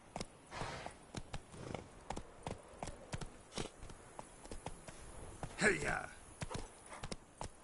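Horse hooves clip-clop rapidly in The Witcher 3: Wild Hunt – Blood and Wine, a quick irregular galloping rhythm of soft thuds, with a voice briefly calling out to urge the horse on.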